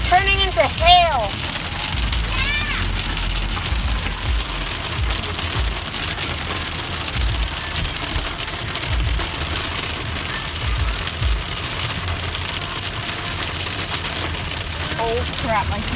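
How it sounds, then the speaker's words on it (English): Hail falling in a Calgary thunderstorm, a steady dense patter and rattle on surfaces throughout, close and fairly loud, with a few sharp chirps early on. "I think it's already turning into hail."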